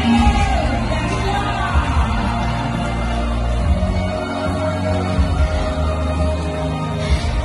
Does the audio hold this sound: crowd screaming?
yes